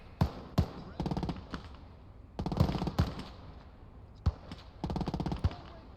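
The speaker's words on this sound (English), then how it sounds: "Semi-autos just rip through the ammo." Semi-automatic rifle fire from the WWII video game Gates of Hell: Ostfront crackles in repeated quick bursts and sharp single shots, moderately distant, with a speaking voice faintly underneath.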